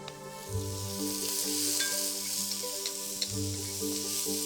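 Steady sizzling of onions frying in a little hot oil, a continuous crackling hiss with low rumbling underneath and a few faint clinks.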